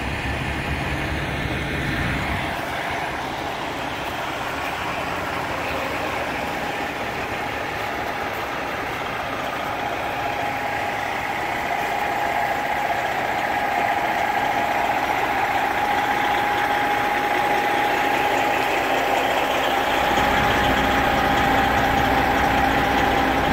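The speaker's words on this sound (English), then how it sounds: "My truck." A truck engine idles steadily for over twenty seconds, a continuous low rumble with a faint whine, loud and close, without speech.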